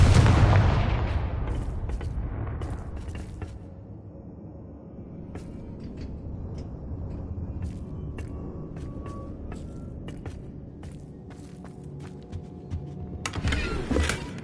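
Confringo and Bombarda spell blasts from Hogwarts Legacy burst out as a heavy explosion at the start, then a scatter of sharp cracks and pops over a low hum, with another cluster of blasts near the end.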